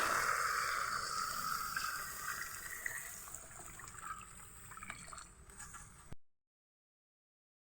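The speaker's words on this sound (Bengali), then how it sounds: "এবার ডালের ভিতরে পরিমাণ মতো ঝোলের পানি দিয়ে দেব।" Water is poured into lentils frying in a pan for dal bhuna, a steady close trickling pour that tapers off and stops abruptly near the end, followed by silence.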